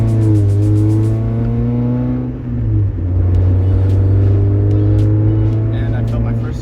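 A Mazda Miata engine idles loudly with a deep, steady drone, its pitch shifting as it revs up and settles, close by with faint talk underneath.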